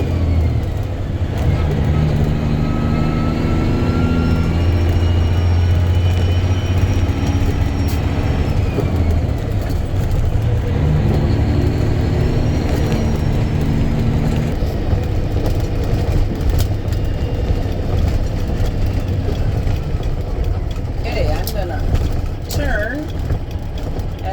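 Grain truck hauling a trailer of soybeans through downtown Rock Rapids, a loud steady engine rumble from inside the cab, with gear-shift whines rising and falling and occasional rattles.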